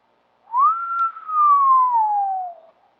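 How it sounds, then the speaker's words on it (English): A person whistles a single clear note that swoops up and then slides slowly downward, close and alone in an otherwise silent setting. "I whistled."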